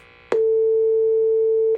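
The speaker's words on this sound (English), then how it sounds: "So we're tracing the signal, the sine wave" Steady sine wave test tone traced through a Mesa F50 guitar amplifier circuit, a clean constant pitch that starts abruptly after a click and holds loud and unwavering for about a second and a half before stopping.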